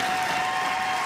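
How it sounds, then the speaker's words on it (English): Sustained applause from a room of people at a bill signing for a semi-automatic rifle ban in Washington state, dense and steady throughout. "And while that applause continued to grow,"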